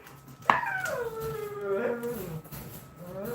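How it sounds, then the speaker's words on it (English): A dog crying and howling with an unusual, almost childlike voice: one long wavering whine that starts with a sharp onset and slides downward, rising again midway, fairly close and moderately loud. "But it's like not a normal dog cry."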